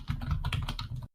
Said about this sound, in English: I'm definitely typing that up here.